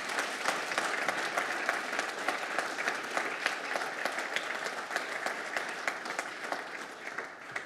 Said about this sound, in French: Merci beaucoup, on peut vous applaudir.